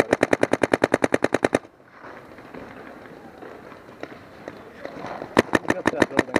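Rapid bursts of paintball guns firing during a paintball game, a fast regular volley at the start, then a stretch of field noise and distant activity, and another quick string of shots near the end.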